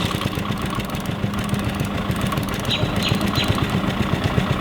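A 1966 Honda P50 moped engine idles low and steady after a cold start, its fast even putter running continuously and close by with no voices over it.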